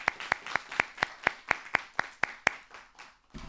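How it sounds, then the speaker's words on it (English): Small audience at a primary school debate event clapping for the sponsors, an evenly paced run of about ten sharp, distinct claps that stops abruptly, fairly close and moderately loud with no talk. "Let's have a clap for our sponsors."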